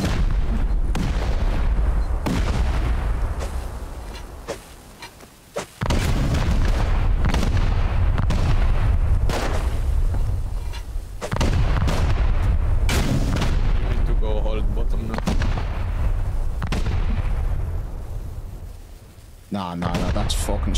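Rocket and C4 explosions during a raid in a modded survival video game, a series of loud booming blasts and bursts in rapid succession with heavy low rumble, one sharp cutoff midway, mixed under occasional game noise.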